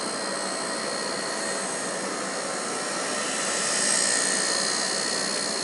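A remote-control collective-pitch helicopter flies nearby with a loud, steady high-pitched whine and buzzing rotor drone, swelling slightly as it passes closer, with no voices.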